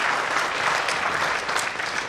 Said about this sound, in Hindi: और जरा जोरदार ताली लगाओ